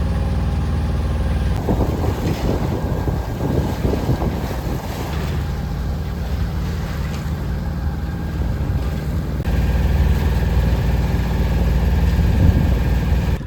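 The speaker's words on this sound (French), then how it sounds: "Donc on fait du moteur pour cette partie-là parce que c'est vraiment étroit puis c'est des coraux." A sailboat motors on its engine through a narrow passage among coral reefs, a steady low drone mixed with loud wind buffeting the microphone and the wash of water.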